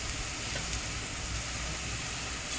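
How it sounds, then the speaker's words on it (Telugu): Onions fry in a pan for a prawn biryani, a steady, close, even sizzle and hiss that carries on without a break and has no talking over it. "ఆనియన్స్ వేగుతున్నాయి కదా"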